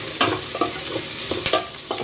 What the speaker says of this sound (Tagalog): So, halo-haloin lang